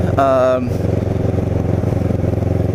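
Ninja motorcycle riding through Cape May, the engine droning with a steady low rumble and pulsing throb close by, a short voiced tone at the start, then rider talk over the engine.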